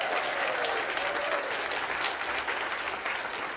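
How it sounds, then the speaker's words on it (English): Audience at a Republican club event claps in a dense, sustained round of applause, fairly close and uninterrupted. "So how about a round of applause for Quail Creek Republican Club?"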